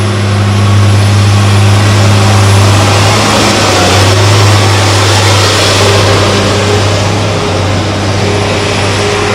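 A TF830 forestry forwarder runs in high gear, its heavy engine giving a loud, steady, low droning hum that holds constant throughout, close by with no voices.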